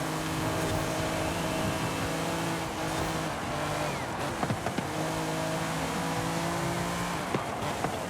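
A race car engine roars at high revs in Forza Horizon 5, a Lamborghini Countach or BMW E46 M3, loud and continuous with shifting pitch and a few sharp knocks and tire noises.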